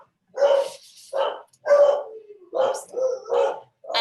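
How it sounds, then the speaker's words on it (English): A dog barks repeatedly during an online presentation on the African Diaspora Fellows Program, about five or six loud, close barks and yips in an irregular rhythm with short gaps. "Sorry for the dog."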